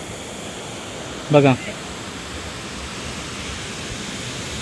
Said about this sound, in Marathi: बघा कसा खळखळ करत वाहत आहे हा धबधबा.